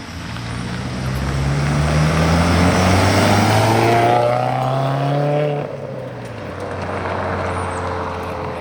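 A Subaru car accelerates away with a rising engine note that climbs through the gears and then fades into the distance, loud and close at first.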